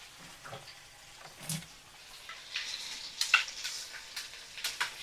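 Poppy seed and mustard paste hitting a hot pan in a Bengali vegetarian bean dish, giving a faint, soft sizzle with light scraping and stirring, no talk.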